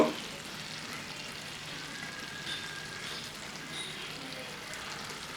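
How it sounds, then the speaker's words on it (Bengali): Ghee spooned into a Bengali rui fish-head muri ghonto gives a soft, steady sizzle with faint stirring scrapes, a quiet, even frying hiss throughout. "ঘি দিয়ে দিলাম দুই চামচ মতো ঘি দিয়ে দিছি এবার হালকা নাড়িয়ে দিই"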